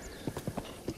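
Horse hooves clip-clopping on a road in Zelda: Breath of the Wild, a steady quick rhythm of soft thuds at moderate volume with no voices over them.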